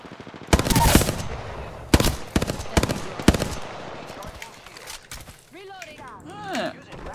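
Rapid automatic gunfire in the Apex Legends battle royale game, loud repeated shot bursts spread across several seconds, followed by whooshing and warbling effect sounds.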